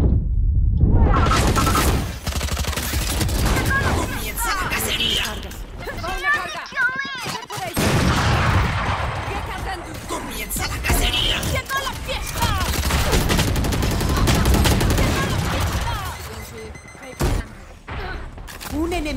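Rapid bursts of gunfire from the tactical shooter Valorant, loud and sustained through most of the round, mixed with booms and ability effects while players talk excitedly over the top.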